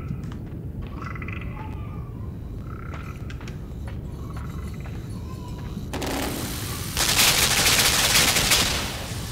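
Gunfire in the video game Limbo, several sharp muffled shots spaced out over a dim ambient drone, followed by a louder burst of noisy blasts near the end.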